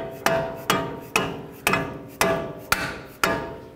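A hammer drives a bolt into the steering knuckle of a 2007-2010 Chrysler Sebring during a front CV axle replacement: seven sharp metallic strikes land at a steady pace, each ringing briefly before the next, close and loud.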